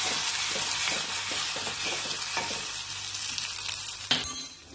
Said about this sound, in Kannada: ಇದು ಕೂಡ ಸ್ವಲ್ಪ ಹೀಗೆ ಹಾಕಬೇಕು, ಒಗ್ಗರಣೆಗೆ ಹಾಕಬೇಕಿದೆ.